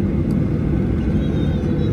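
A passenger airplane accelerates down the runway for takeoff on a flight from Kuala Lumpur to Langkawi, heard from inside as a steady, loud, low engine rumble with no talking.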